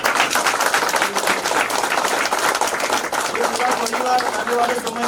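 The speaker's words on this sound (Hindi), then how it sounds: "जोरदार ताली है।" Loud, sustained applause from an audience at a gathering in Mount Abu, a dense wash of clapping that holds steady throughout, with voices mixed in underneath.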